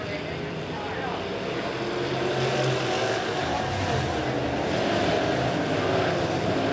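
Midwest Modified race cars at Springfield Raceway roar together as a B-Main race starts, a dense loud engine drone that swells slightly, with a commentator talking over it.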